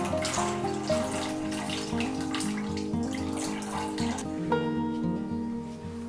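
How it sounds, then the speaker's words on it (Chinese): Excess water pours off soaked rice in a steady, close splashing stream that runs continuously and never stops, with no voices present. "大米浸泡完之后，倒出多余的水"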